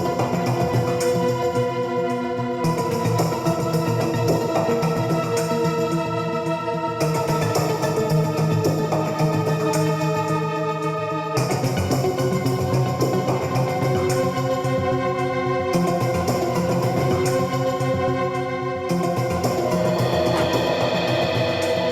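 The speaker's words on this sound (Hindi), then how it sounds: "सर, ये ब्लूगो चिड़िया की आवाज है।" A steady chorus of bluego bird calls repeating in regular bursts, layered chirps and whistles over a dense, continuous background.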